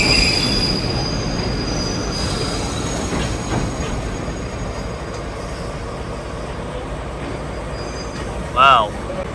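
A departing train in Kyoto rumbles steadily along the track, and a brief, loud, high wheel squeal rises near the end over the continuous rolling noise.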